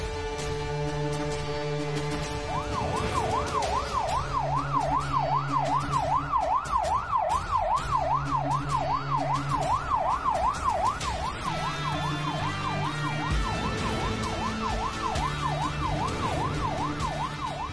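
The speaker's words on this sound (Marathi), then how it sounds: "आता यावेळी पोलिसांची गाडी गावात" A police car siren wails in a fast, rising-and-falling cycle that holds steady and loud for most of the stretch, over a dramatic musical background with no talk.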